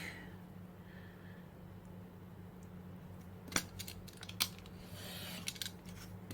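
Scissors cutting paper for watercolor bookmarks, a few sharp close snips scattered over a quiet background with a steady low hum.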